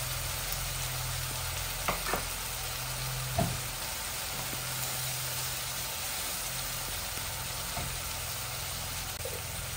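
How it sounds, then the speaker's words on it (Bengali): White onion added to vegetables frying in a pan, a steady soft sizzle throughout with a few light clinks and stirring taps. "এখন আমি সবজির মধ্যে হোয়াইট অনিয়নটা দিয়ে দিচ্ছি আর একটু রেড অনিয়ন দিব।"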